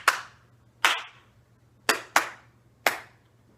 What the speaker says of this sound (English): you're going to go into the clapping one